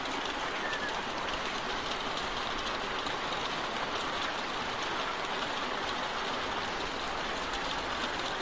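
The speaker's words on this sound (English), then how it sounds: "Oops, sitting out in the rain." Steady rain falls outside a barn in The Walking Dead video game, a constant dense hiss that holds at the same level throughout.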